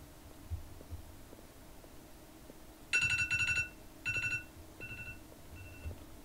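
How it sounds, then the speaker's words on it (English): A timer alarm goes off with a few loud electronic beeping bursts, then fainter repeats, against a low hum in a quiet room. "Bro, my timer scared me."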